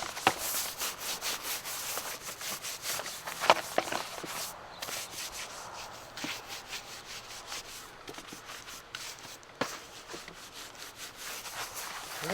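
Glycerin saddle soap being scrubbed into a leather horse saddle on a stand, a steady brisk rubbing and brushing texture with a few sharper knocks, close and fairly quiet with no talking.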